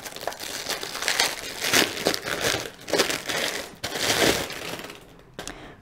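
An AliExpress parcel box is unwrapped close up, with loud, irregular crinkling and crushing of packaging in repeated bursts and no voice over it.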